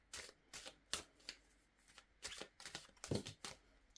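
Tarot cards are shuffled up close in a series of quick, crisp riffling bursts separated by short pauses, quiet and crackling.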